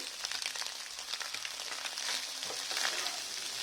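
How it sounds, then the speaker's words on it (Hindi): Beaten egg and sprouts fry over a high flame, giving a soft, continuous crackling sizzle with faint stirring, fairly quiet throughout and with no voices. "मैं इसको हाई फ्लेम पे 2 से 3 मिनट तक एग को भूनी।"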